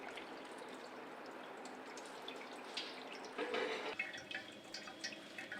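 Curdled homemade cheese is poured onto a clean reed mat set over a container, with a soft steady wet trickle of whey draining through and a brief splashy surge partway through, close and quiet.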